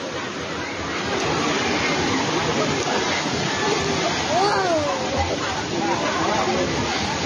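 Water rushes over rocky rapids at Kaeng Hai in Ubon, Thailand, a steady broadband roar throughout with someone talking over it and other voices nearby.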